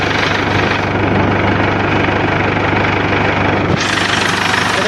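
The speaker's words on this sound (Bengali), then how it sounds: "গাড়ি স্টার্ট করেছি," A car engine idles steadily with the AC pump newly fitted, giving a continuous low hum with a rough mechanical rattle. A brief dip and change in tone comes near the end.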